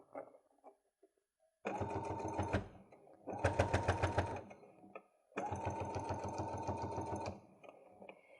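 A sewing machine stitches fabric for a makeup bag in three loud, rapid bursts of rhythmic needle chatter, separated by short pauses with faint handling noises.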